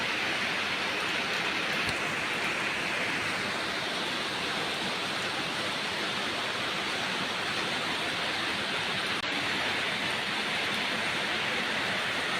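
Steady, dense rain pouring down, a continuous hiss of drops hitting surfaces with no breaks and no voices.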